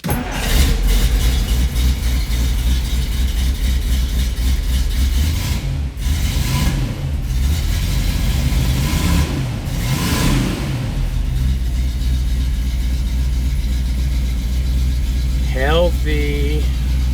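A 1964 Studebaker Avanti with a freshly reassembled carburetor cranks over and fires, then revs loudly and steadily for several seconds, its engine roar filling the clip up close, with a voice briefly heard near the end.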